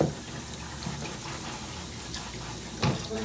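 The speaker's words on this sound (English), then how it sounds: "Let me just like rinse this off, so I at least have it a bit more cleaner in the kitchen" Water runs steadily from a kitchen tap as items are rinsed beneath it, a soft continuous splashing with a slight surge near the end.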